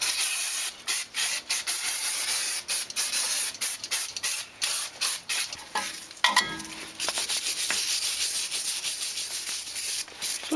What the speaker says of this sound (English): I'll give it a bit of a spray down with some brake cleaner.